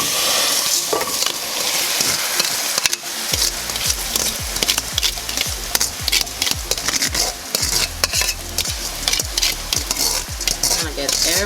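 Pre-washed rice goes into a pan of sautéed ingredients, with a strong sizzle and rhythmic scraping of a spoon stirring it, close and continuous throughout.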